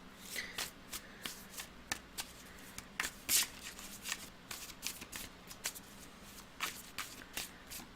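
Tarot cards are shuffled close up in a quick, irregular run of crisp riffles and slaps. The card noise stands alone, with no one speaking.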